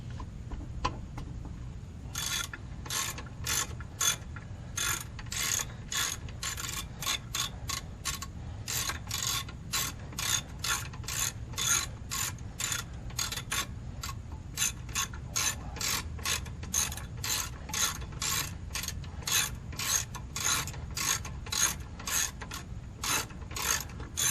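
A ratchet turns rear brake bolts on a Toyota 4Runner, giving fast, regular clicking strokes that repeat nonstop for a long stretch, close up and clear.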